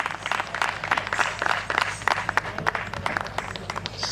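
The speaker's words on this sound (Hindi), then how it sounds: "एक बार जोरदार तालियों के साथ में स्वागत करिए।" A crowd at a Tamasha folk theatre event claps loudly, with uneven bursts of hand claps building and continuing in a scattered rhythm, fairly close.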